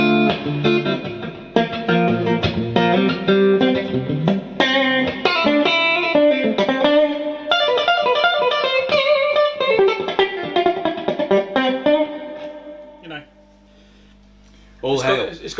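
A 1960 slab-board Fender Stratocaster electric guitar is played through effects with distortion and chorus, a loud run of chords and notes with reverb, then a brief pause before a final chord.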